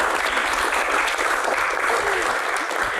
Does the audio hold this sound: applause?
yes